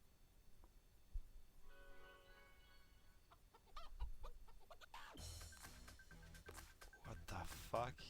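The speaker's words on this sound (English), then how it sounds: "what is this chicken song?" A novelty chicken song with clucking and squawking hen sounds over a quiet musical backing, growing busier and louder in the second half, with a voice speaking faintly over it.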